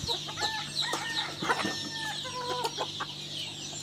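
Native village hens in a small backyard flock in Ratnagiri cluck and chatter in overlapping calls, moderately close, with a low steady hum underneath.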